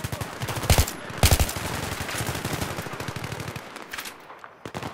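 Machine-gun covering fire in the video game Battlefield 3, with two loud close bursts near the start and then a longer stretch of rapid rattling shots that fades out toward the end.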